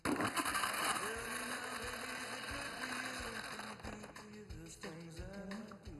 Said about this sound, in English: you'll need a good blender that can chop up, say, counting ice cubes?